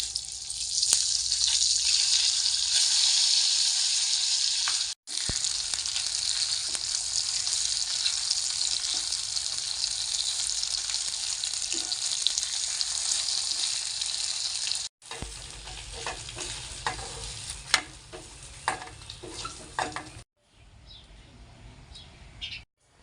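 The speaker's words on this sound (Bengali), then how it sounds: "বাকি পনিরের পিস একইভাবে ভেজে নেব।" Pieces of paneer fry in a kadai with a steady, loud, close sizzle that runs without a break, then grows quieter and patchier near the end, with no voices.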